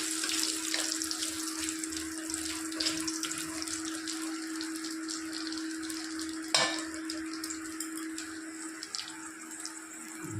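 Whole spices tempering in hot oil for a simple Bengali chicken curry give a steady, close sizzle and crackle throughout, with a constant hum underneath and one brief sharper clatter midway.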